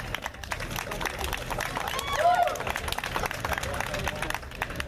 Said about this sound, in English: let's go ahead and raise a big round of applause for these wonderful ladies